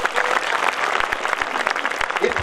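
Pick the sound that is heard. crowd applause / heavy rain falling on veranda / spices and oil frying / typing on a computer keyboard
crowd applause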